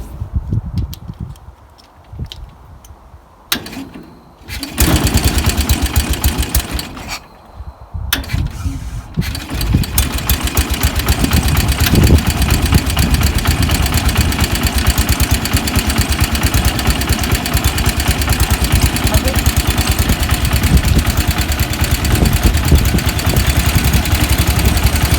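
A 1976 Bolens G12 lawn tractor engine cranks a few times, catches and roars to life, then settles into a loud, steady rumbling idle that runs to the end.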